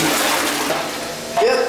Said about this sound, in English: Now we'll flush.